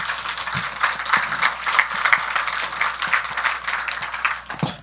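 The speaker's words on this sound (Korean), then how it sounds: "박수 한번 하십니다" A church congregation claps together in steady, sustained applause during a sermon, filling the room evenly with no voices heard over it.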